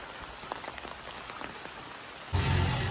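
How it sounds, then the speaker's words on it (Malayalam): Rain falling steadily over cardamom plantations in a hilly Idukki village, a soft continuous patter that suddenly swells into a louder, denser downpour near the end. "മഴയും പെയ്യുന്നുണ്ട്"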